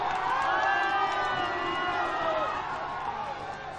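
Spectators cheer and shout at the finish of a youth Olympic canoe-kayak obstacle final, a loud, continuous wash of crowd voices with whoops that eases slightly toward the end.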